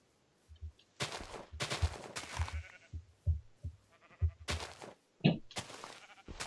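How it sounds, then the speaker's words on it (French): Sheep bleating in the video game Minecraft: several short, close bleats in an irregular run, mixed with sharp thuds and clicks, with a voice briefly heard. "Oh, des moutons."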